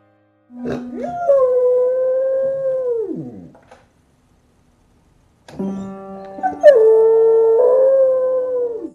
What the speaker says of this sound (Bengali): এখানে দেখুন পোষা কুকুরটিও কি সুন্দর পিয়ানো বাজিয়ে গান করছে